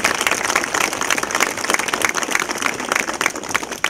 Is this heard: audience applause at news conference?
yes